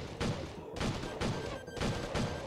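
Rapid bursts of landmine explosions and gunfire from the Rogue Outbreak: Zombie War video game, coming in repeated rhythmic volleys, loud and dense throughout.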